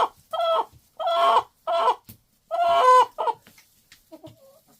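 A large hen gives a handful of loud, throaty clucks and drawn-out squawks in uneven bursts, close by, trailing off into softer mutters.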